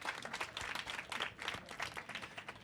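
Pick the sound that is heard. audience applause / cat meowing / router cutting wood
audience applause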